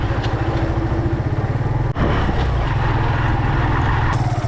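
A motorcycle engine runs steadily close by, with a loud, even low rumble and a brief dip in sound partway through, on a narrow, slippery rural road.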